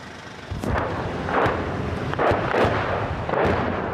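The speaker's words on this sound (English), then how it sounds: "A barrage of incoming shells land close by." Barrage of incoming artillery shells exploding close by on a battlefield road, several heavy booming blasts about a second apart, each with a rumbling roll and debris, loud with no voices.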